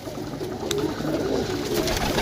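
Pigeons cooing close by, soft rolling low coos repeating through the short stretch over a faint background hum.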